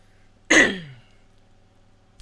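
A single harsh throat-clearing cough bursts out close by, then fades quickly into a quiet room.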